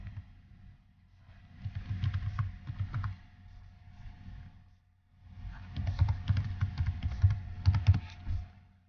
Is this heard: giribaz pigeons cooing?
no